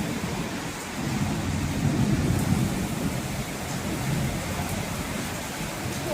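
Heavy rain with thunder, a continuous thick wash of falling water with low rumbling swells, steady and fairly loud throughout, no speech.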